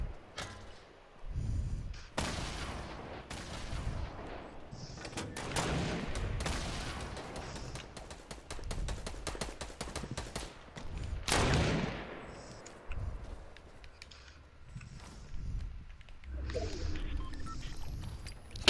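Gunfire in the video game Fortnite: rapid bursts of sharp shots and thuds, loud and close, coming in clusters with short pauses between them.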